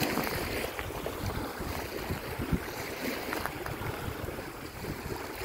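A calm river flows along the shore with a steady, continuous wash of water, mixed with gusty wind buffeting the microphone and no voices.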